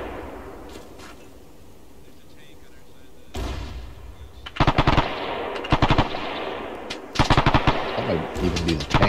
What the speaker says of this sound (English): Here we go. MG fire.